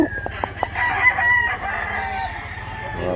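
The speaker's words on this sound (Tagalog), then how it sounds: "Wapo sa manok, 1 year pa siya mga idol." A one-year-old brown rooster for sale at a market in Mantalungon, Cebu, crowing loudly and close by, a drawn-out cock-a-doodle-doo over faint clucking and background chatter.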